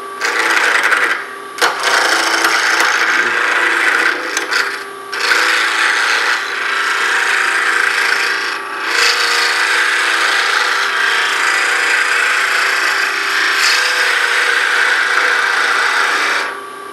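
Wood turning on a lathe shapes the taper of a mini baseball bat ornament, a loud close scraping hiss of the tool against spinning wood, steady with brief breaks and surges as the cut is adjusted.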